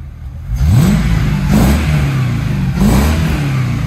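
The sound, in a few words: Mercedes V8 M113 engine swapped into BMW e36 revving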